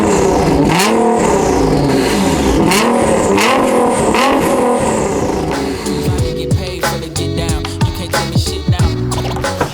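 A 700 hp Nissan R35 GT-R with catless downpipes, titanium intakes and a Valvetronic titanium exhaust revs hard through canyon roads, rising and falling engine pitch through gear changes, loud and close, ending in crackling pops on lift-off.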